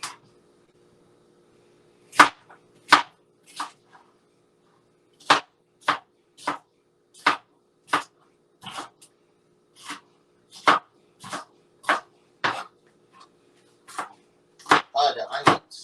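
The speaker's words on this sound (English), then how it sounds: "chop it up a little bit" A knife chops green pepper on a board, cutting in a steady series of sharp, close knocks spaced about half a second to a second apart, with a brief rustle near the end.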